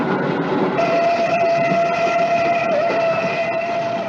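A train in the film Horror Express rumbles steadily while a long, sustained whistle tone sounds over it for most of the moment, with no talking.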